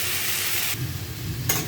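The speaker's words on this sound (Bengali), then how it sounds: "সবজিগুলো আমার কষানো হয়ে গেছে।" Chopped vegetables sautéing in a pan for khichuri: a steady close hissing sizzle, with a scrape of stirring partway through.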